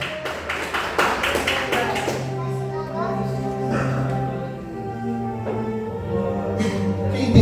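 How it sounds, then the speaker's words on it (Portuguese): Congregation clapping at a Tuesday church service, loud rhythmic claps at the start fading into softer applause with voices and music underneath. "dê uma salva de palmas bem forte para o nome de Jesus ser glorificado"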